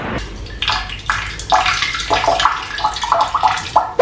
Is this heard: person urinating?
yes